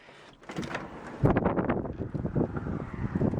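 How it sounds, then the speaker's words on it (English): Strong wind buffets the microphone in heavy, continuous gusts, a rough roar that swells and stays loud throughout with no voices. "Look how windy it is and miserable."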